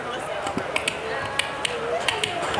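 A beatboxer on stage at a rock event in Mikkeli imitates with the mouth a rodent scurrying on a roof: scattered light, dry ticks and scratchy taps in an irregular patter over a murmuring crowd.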